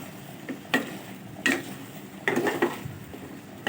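Okra tossed with spices in a pan: a few sharp spatula scrapes and clinks against metal at irregular intervals over a faint background sizzle.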